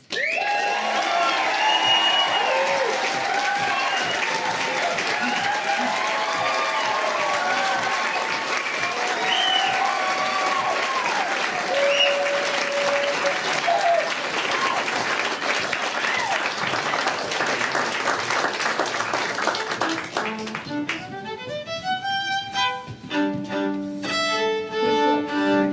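An audience at a Minnesota arts center applauds and cheers as the performers take the stage. Sustained loud clapping is threaded with whoops and shouts, then music begins over the fading applause near the end.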